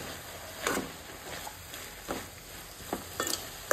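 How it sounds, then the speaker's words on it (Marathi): Grated coconut and dry shrimp frying in a pan over a high flame, with a soft steady sizzle broken by a few louder stirring scrapes. "आनी हाय फ्लेमीचेरच न्ही आतां आमी हें तळसून घेवया"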